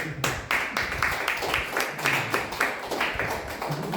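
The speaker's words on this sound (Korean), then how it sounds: "경례 박수 한번 좀 해주시기" A small church worship gathering gives a round of clapping, brisk and fairly close, with claps overlapping in an even patter for a few seconds.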